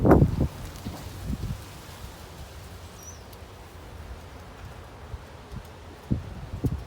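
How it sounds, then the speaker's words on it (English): Outdoor wind gusting past a parked 1963 Ford Galaxie 500 XL convertible, a low rumbling buffet with a couple of stronger bursts at the start and end. "Sorry it's so windy today."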